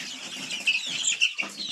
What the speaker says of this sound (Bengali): এটি দেখুন এটি একটি কোচিন মুরগি তো এটা হচ্ছে ব্ল্যাক কোচিন